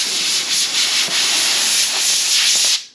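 Sandpaper rasps steadily across a homemade overland truck canopy, a continuous close abrasive scrubbing with faint stroke pulses that stops abruptly at the end, with no voices.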